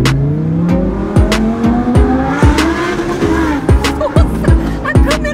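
An Audi R8 sports car is driven hard, its engine revving up and down through sharp gear changes while tires squeal, loud and close throughout, with no talk.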